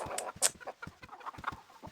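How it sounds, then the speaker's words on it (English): Chickens in Baldur's Gate II cluck softly in a quick, uneven series of short calls, faint and alone with no talking. "Chickens!"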